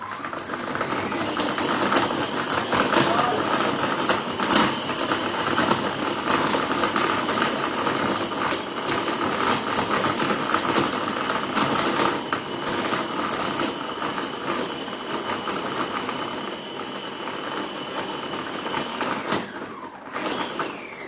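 A kitchen robot mixes dough at speed 13, giving a steady mechanical whirring drone with rhythmic clicking, constant and close for most of the time before the motor winds down near the end.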